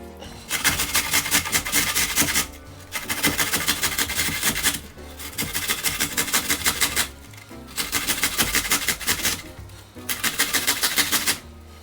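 A sweet Eve apple being grated for a vegan Japanese-style curry, heard as loud, fast rasping bursts in five runs of about two seconds each with short pauses between, no voices over it.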